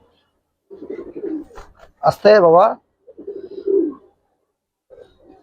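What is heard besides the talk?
pigeons cooing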